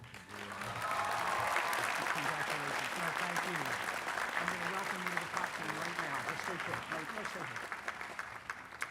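A commencement audience breaks into sustained applause for an honorary Doctor of Laws degree, with broad steady clapping under a voice that speaks through much of it.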